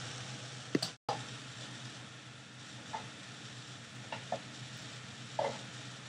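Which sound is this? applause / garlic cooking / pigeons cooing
garlic cooking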